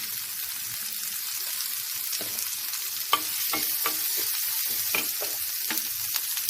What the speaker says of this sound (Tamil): சின்ன வெங்காயம் போட்டிருக்கேன். சின்ன வெங்காயம் போட்டிங்கன்னா நல்லா டேஸ்ட்டாக இருக்கும். கொஞ்சோண்டு பெருங்காயம் போடுறேன்